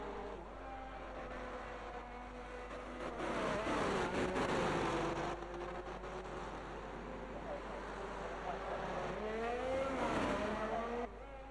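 Race cars on a track in an Australian racing video game whine past with rising and falling engine tones, one car swelling then fading against a steady background of further cars, all at a moderate distance.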